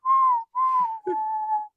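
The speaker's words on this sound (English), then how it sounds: "I was whistling all day yesterday" A person whistles three sustained steady tones, the first two separated by a short gap and the third gliding slightly, loud and close with no other sound.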